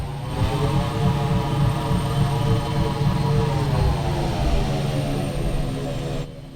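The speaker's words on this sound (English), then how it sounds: "a thrust on sound plays, followed by a thrust loop which plays over the engine audio" A video game spaceship's engine and thrust loop hold a steady, droning hum with layered tones throughout, its pitch shifting slightly midway before easing off at the end.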